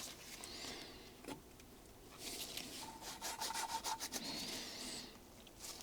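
A Volvo 66 (DAF 66) engine valve is lapped against its seat with fine lapping compound, giving a faint gritty rubbing that swirls back and forth in short strokes.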